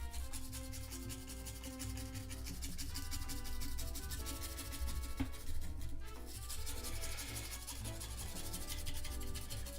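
A towel rubbed over a surface during repair work on a Sony PVM 20L5 CRT monitor, a continuous soft scratchy friction close by with steady back-and-forth strokes.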